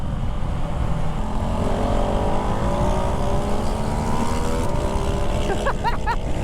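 A Ducati Hypermotard 698 Mono supermoto motorcycle engine roars steadily and loudly close by, its pitch rising as it revs, with wind rushing over it throughout.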